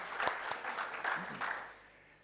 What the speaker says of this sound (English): please an applause to Bastian